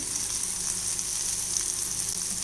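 Turmeric, chilli and coriander powders roast in oil with green chilli over a low flame for onion sambar, making a continuous, even hiss of frying close up with no voices.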